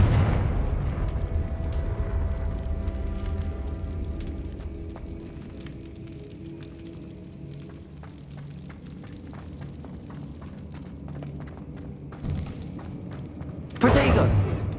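Confringo fire-spell blasts from Hogwarts Legacy combat, a run of booming explosions and impact bursts over a rumbling game score, ending in a sharp loud burst near the close.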